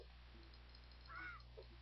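A raven caws in the video game Zelda: Phantom Hourglass, one short, faint croaking call over a steady low game hum, followed by a softer second note.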